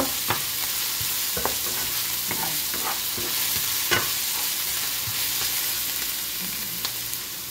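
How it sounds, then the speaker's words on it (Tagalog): Onion and garlic sautéing in a pan, a steady broadband sizzle with scattered sharp scrapes and clicks from stirring, close and fairly loud, no talk. "gisa tayo ng sibuyas. Lagyan natin ng bawang."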